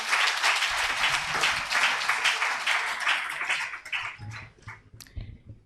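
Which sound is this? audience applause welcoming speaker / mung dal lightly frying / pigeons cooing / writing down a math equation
audience applause welcoming speaker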